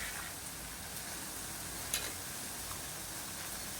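Boondi droplets of batter fry in hot oil, giving a steady, even sizzle that fills the whole stretch with one faint click partway through, no voices over it.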